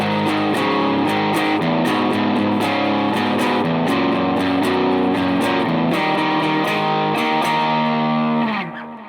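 Heavily distorted electric guitar plays a chugging phrase of power chords, loud and continuous, ending with a final chord that fades out.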